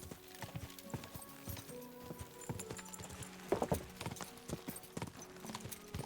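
Horse hooves clip-clop at a steady gallop-like rhythm in the video game Kingdom Come: Deliverance II, a continuous run of close hoofbeats at moderate loudness with light ambient game sound.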